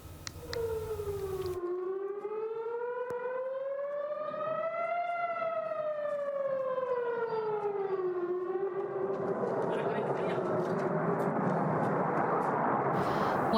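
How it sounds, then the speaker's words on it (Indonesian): An air raid siren wails over Tel Aviv during an Iranian missile attack, its pitch rising and falling in one slow sweep, loud and prolonged, while rushing noise builds up toward the end. "Warga Israel ketakutan saat sirine meraung di udara."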